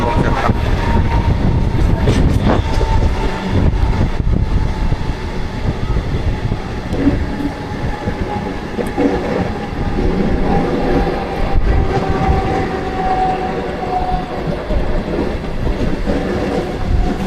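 A Mumbai local train running in rainy weather, with a sustained loud rumble and rhythmic clatter of carriages throughout, heavier at first and then settling into a steady roar, heard up close.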